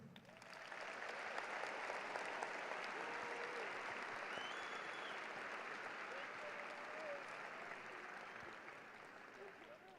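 Sustained applause from a large audience at a high school graduation ceremony, steady dense clapping for nearly the whole span, filling the hall without voices standing out.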